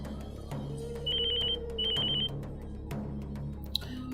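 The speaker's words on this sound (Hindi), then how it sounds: "तुम्हारी बीवी फोन पर फोन कर रही है।" Incoming call on a mobile phone, sounding as two short bursts of a rapid electronic trill with a pause between them, heard fairly near over quiet background music.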